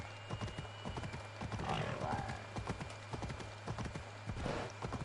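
Horse hooves clip-clopping in the video game Assassin's Creed Odyssey, a steady rapid trot of close, crisp hoof strikes throughout, with a brief whinny-like sound and faint talk in the background.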